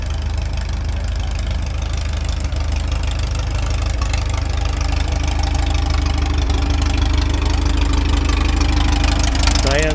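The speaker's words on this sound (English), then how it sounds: "1962 Ford tractor with loader." A 1962 Ford tractor with a loader idles at an outdoor tractor show, its engine a steady low rumble running loud and close the whole time, with a faint voice near the end.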